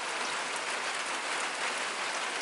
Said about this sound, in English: just a nice, light, steady rain is what we need.